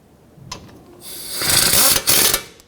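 Mechanical grinding and squeaking as brake caliper pistons are pushed fully back on a 2011-2018 Volvo S60 front brake job, rising in loudness through the middle and ending with a short burst, close up with no talking.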